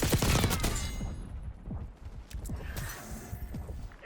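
A burst of gunshots in Call of Duty: Black Ops 6 starts loud, then fades into scattered thuds and quieter shots with mechanical clatter.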